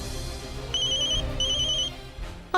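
A phone ringtone plays during an outgoing call in a TV serial, two clear electronic ring bursts with a pause between them, over a soft background music bed.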